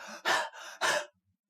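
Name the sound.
voice imitating heavy breathing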